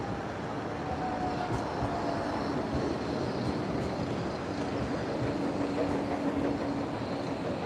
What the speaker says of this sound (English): Well, we're not short on trams in Blackpool